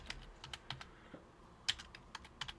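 Keys tapped on a computer keyboard while naming an object in Lightwave 3D software, a quiet scattered run of about a dozen light clicks with uneven gaps, close and alone without speech.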